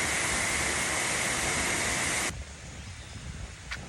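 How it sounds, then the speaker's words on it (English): Kunkorn Waterfall in Thailand roars as a dense, loud, steady rush of falling water close by, then abruptly drops to a softer, more distant wash for the last second and a half. "I'm doing a hike at Kunkorn Waterfall"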